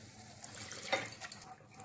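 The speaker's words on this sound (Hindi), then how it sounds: "मसाला भुनने के बाद ऐड करेंगे पानी।" Water poured into fried masala paste for a fish curry gives a soft, close splashing trickle lasting under two seconds, with a few brief liquid bursts and no voices.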